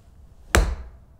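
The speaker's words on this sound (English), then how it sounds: "we're going to start just with this little chipping drill" A golf club strikes a ball once in a relaxed chipping drill, a single crisp close click-thump with a short fading tail in an otherwise quiet setting.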